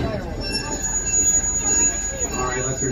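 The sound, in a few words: train running at Greenfield Village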